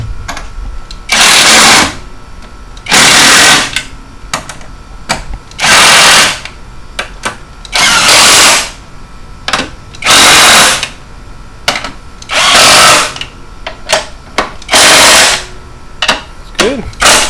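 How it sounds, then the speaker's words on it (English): An impact wrench tightens the strut bolts on a 2005 Mini Cooper during a strut and wheel bearing job. It gives loud, close, rattling bursts of about a second, repeated roughly every two seconds, with clanks and shop noise between them. "Go ahead and tighten them down with the impact."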